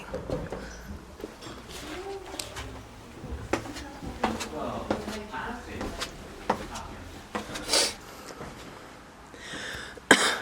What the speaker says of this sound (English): I love the creaking.